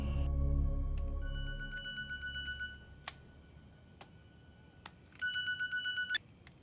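A mobile phone rings with a repeating electronic ringtone in two bursts of rapid pulsed tones, separated by scattered clicks and beeps, after a low rumbling swell fades out. It is moderately loud and nearby, with no speech.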